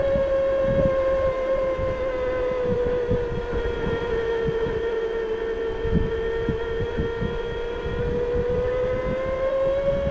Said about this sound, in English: you definitely hear the motor working, and now it's picking up even more, and that whine is like headed more towards the flat, and it spins faster